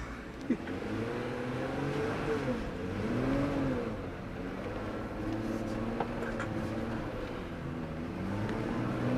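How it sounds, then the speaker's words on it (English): A 4WD engine pulls steadily up a steep 27-degree incline in four-wheel low, its low drone rising and falling gently with load, with faint ambient noise throughout. "Here we go, we're got a 27-degree incline, we've got 4 low."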